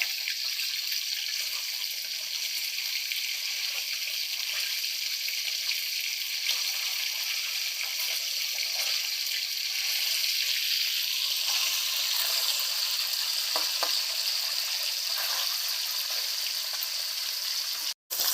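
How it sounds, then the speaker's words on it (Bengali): Sole fish fry slowly in hot oil, giving a steady, close, even sizzle and crackle that runs unbroken, with no voices and only a brief cut at the very end. "মাছগুলোকে আমি এরমভাবে আস্তে আস্তে ভেজে নিচ্ছি"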